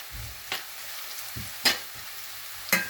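Ingredients for a Kerala cashew curry are sautéed in a pan: a steady low sizzle with a few sharp scraping stirs of a spoon, close up and with no voices.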